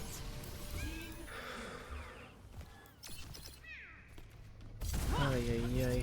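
A cat meows inside a game of Overwatch, giving several rising and falling cries scattered among game effects, with a louder drawn-out meow near the end and voices talking at times.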